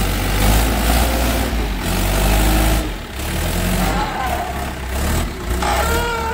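A JCB's diesel engine runs loud and close with a heavy low rumble, revving and easing off in surges while its tyre slips, with brief dips in the noise and some voices underneath.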